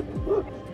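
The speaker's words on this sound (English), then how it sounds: "Those villager dog are barking with hope to fend off this bear." A single short bark from a village dog trying to fend off a bear, close and sharp, with a faint murmur of background noise around it.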